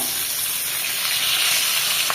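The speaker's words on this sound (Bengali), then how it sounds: "এই দেখো এবার মাছ ভাজছি" Fish frying in a pan in a Bengali village kitchen, a steady, loud oily sizzle and hiss close up, with no talking.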